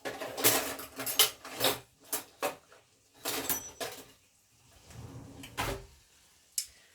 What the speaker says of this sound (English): I'm going to get my serving dish, my serving spoon if I can find it.